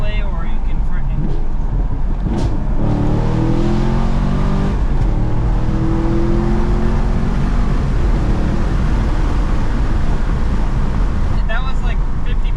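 Engine of a 2019 Chevy Camaro SS 1LE Track Pack with a 6-speed manual revs hard while accelerating on curvy mountain roads, a loud, sustained rising roar heard from inside the car, with pitch sweeping upward through the gears.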